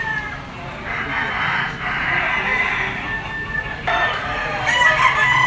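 A Kelso yellow-legged bullstag gamecock crows loudly and close by at a rooster sale in Lipa, Batangas, with other fowl clucking and calling around it.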